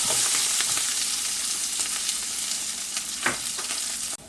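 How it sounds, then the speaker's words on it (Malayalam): Dried red chillies, ginger, curry leaves, garlic and green chillies fry in hot oil, a loud continuous sizzle with a few stirring clinks before it cuts off abruptly. "ഞാൻ ഈ വറ്റൽ മുളകും ഇഞ്ചിയും കറിവേപ്പിലയും വെളുത്തുള്ളി പച്ചമുളകും എല്ലാം കൂടെ ഇട്ട് ഒന്ന് മൂപ്പിച്ചെടുക്കുവാണ്"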